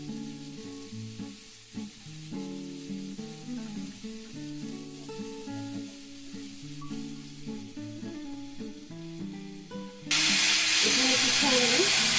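Washed long beans hit a hot frying pan, bursting into a loud, sustained hiss and sizzle after a stretch of background music.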